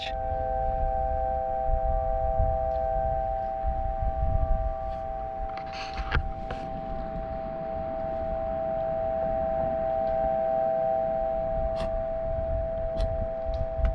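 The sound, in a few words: wind blowing through strings, making them resonate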